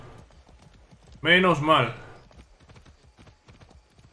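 Steady clip-clop of horse hooves in the video game Far Cry 6 runs throughout, with a brief burst of speech partway through.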